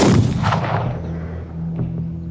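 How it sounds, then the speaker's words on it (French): A loud booming gunshot rings out and echoes away, followed by a fainter second report and lingering reverberation. "Ce n'est qu'au petit matin que 2 coups de feu retentissent et font trembler les murs de la chambre du prince."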